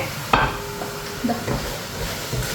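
Garam masala is stirred into biryani in a pot, giving soft scraping and a few clinks of a spoon against the metal over a faint low sizzle, close and fairly quiet.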